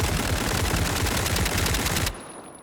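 An SMG in the shooter SCP: 5K fires on full auto, a rapid, even string of loud close shots for about two seconds that stops abruptly, leaving a faint ringing tail.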